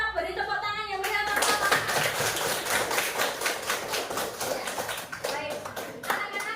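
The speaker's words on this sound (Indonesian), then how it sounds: "Kita beri tepuk tangan yang meriah." A classroom of children breaks into loud, sustained applause after a group presentation in a maths lesson, dense clapping filling several seconds with children's voices mixed in.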